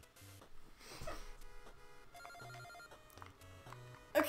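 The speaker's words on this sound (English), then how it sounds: "Okay, rotary phone." A rotary telephone rings in an NES video game as a run of electronic, chiptune-style ring bursts repeating over busy game music, with no one talking.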